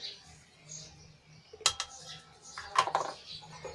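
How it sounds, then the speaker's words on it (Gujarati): Garlic and Kashmiri red chilli powder pounded in a mortar: two sharp, hard knocks about a second apart over a quiet background. "હવે આને ખાંડીને આપણે મરચું તૈયાર કરી લઈશું"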